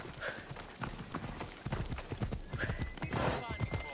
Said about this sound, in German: Können wir unser Pferdchen rufen?